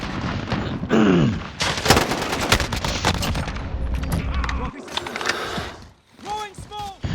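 Slug rounds from a shotgun in a shooter game, heavy booming shots mixed with rapid gunfire over a continuous din, then a lull followed by a few ringing mechanical tones, with voices underneath.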